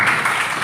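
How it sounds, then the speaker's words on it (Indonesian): Brief burst of applause from a room of teachers, a dense even patter of clapping heard close for under a second. "Tepuk tangan dulu"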